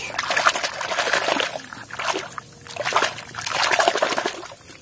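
Water splashes and sloshes in uneven bursts while a dirty toy car is washed by hand, close and fairly quiet, with brief pauses between the wet scrubbing surges.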